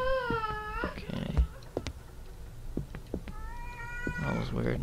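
A cat meows in the horror video game Erie, with a drawn-out, wavering mew at the start and another near the end. Scattered clicks and thumps fill the gap between them.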